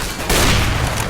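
Gunfire in a Counter-Strike: Global Offensive deathmatch cracks out as a loud burst of shots that blend into a dense, booming wash with no pause.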